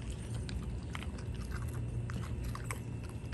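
A dog gnaws on a whole partly thawed chicken, giving close, continuous wet crunching and biting sounds with sharp bone cracks over a steady background.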